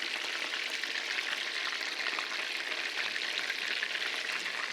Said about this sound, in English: But now we're frying.